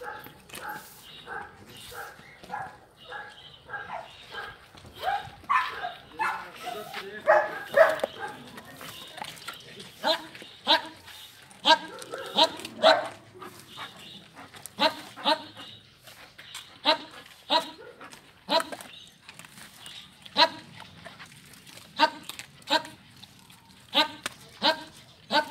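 Several dogs bark and yip repeatedly in irregular bursts, some whimpering between, heard at moderate distance while people talk throughout.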